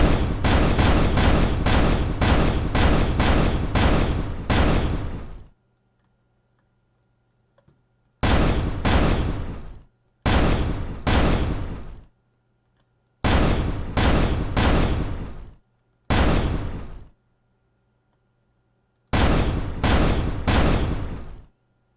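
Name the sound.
explosions from firing in a voxel terrain video game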